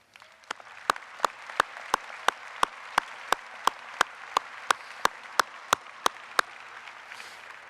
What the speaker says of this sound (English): I think all of those mentors and supporters deserve your applause